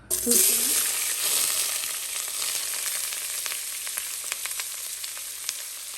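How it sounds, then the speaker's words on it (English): Onions hit hot oil for beef pilau with a sharp burst of sizzling, then settle into a loud continuous frying hiss with scattered pops and light clinks. "my onions and my oil."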